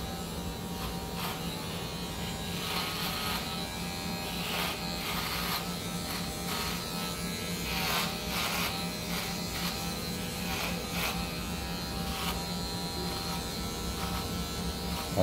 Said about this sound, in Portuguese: Ó, eu passo a máquina reta